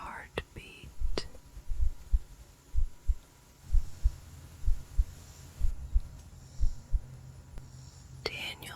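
A quickened heartbeat in a soft, intimate setting, pulsing in low, regular thumps roughly twice a second under a faint hum. Brief breathy whispering sounds at the start and the end.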